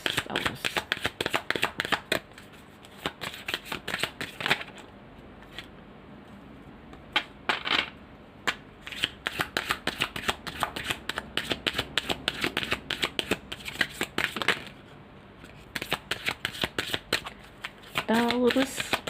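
Tarot cards are shuffled over and over in quick riffling bursts with brief pauses between them, close and crisp, while a person talks softly between and over the shuffles.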